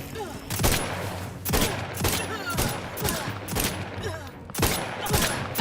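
Video game gunfire in repeated bursts of rapid shots about once a second, loud and close over a steady background hum, no talking.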